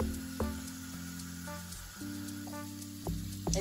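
Onion sizzling and frying steadily in a pan during home-style chicken cooking, a close continuous hiss with a few clatters of stirring and a low background hum.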